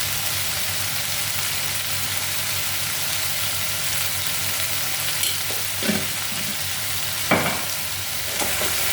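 Curry sizzles steadily in a pan while being sautéed with salt added, a continuous close frying hiss with a few brief louder scrapes and spikes late on.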